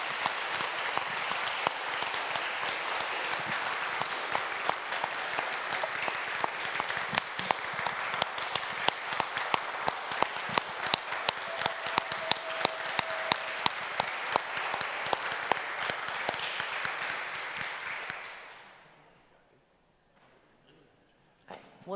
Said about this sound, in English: Please help give us a big round of applause to all the students.